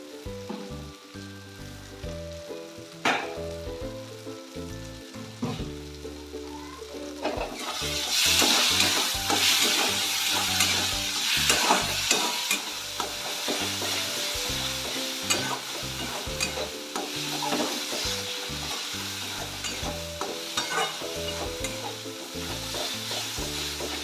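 Masala cauliflower (fulkopi) stir-fries in a pan with spices and a little sugar, a loud, continuous sizzle with scraping stirring that comes in after a stretch of quieter music and carries on steadily.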